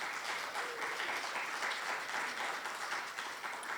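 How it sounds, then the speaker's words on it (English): Steady audience applause honoring women seated on a stage at a gathering, dense continuous clapping at an even level throughout with no speech over it. "can we please give a round of applause for all the ladies seated up here?"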